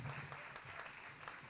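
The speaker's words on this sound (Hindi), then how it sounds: "एक बार ज़ोरदार तालियां मेरा हौसला बना रहे" A dense, steady patch of crowd clapping rings out at a Hindi poetry recital, the Kavi Sammelan, sustained without a break for under two seconds.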